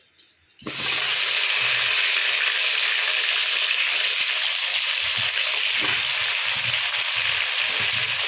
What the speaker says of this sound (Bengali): নেড়ে দেব ভালো করে আমরা ভেজে নেব